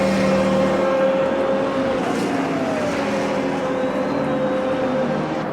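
A Corvette race car in the Automobilista 2 racing game, running in a multi-class race at Indianapolis: a steady, loud engine drone with a sustained tone that holds throughout.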